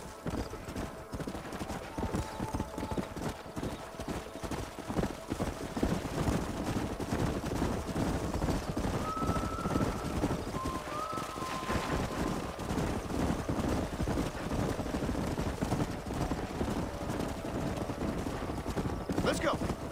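Horse hooves clip-clop at a steady trot throughout in the Western video game Red Dead Redemption, a continuous rhythmic beat at moderate loudness with occasional whinnies, game music and speech in the background.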